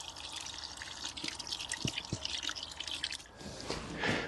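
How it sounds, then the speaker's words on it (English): Water splashes and drips into a bucket holding baby leeks, a faint trickling with a few soft drips, rising slightly near the end; no talking. "Put some water in, give them a good soaking."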